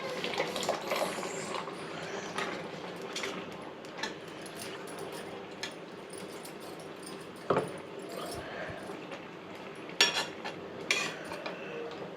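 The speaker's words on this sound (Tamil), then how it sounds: "இது மாதிரி இப்போ அரைச்சி வச்சுருக்கிற விழுது இதில் ஊற்றிக்கலாம்" Ground masala paste for black chana masala is poured into a pan and stirred. There is a quiet, continuous wet scraping with scattered clinks of a metal spoon against the pan.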